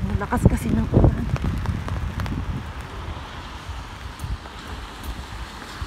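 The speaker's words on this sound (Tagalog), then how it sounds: "Lakas kasi ng ulan." Heavy rain pours down steadily in a constant wash of noise in Israel, with a person talking close by near the start and gusts of wind.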